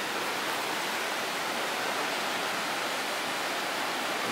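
Steady rushing water from a river channel flowing beside the town hall in Bamberg, Bavaria, a dense unbroken wash of sound heard close and loud, with no voices.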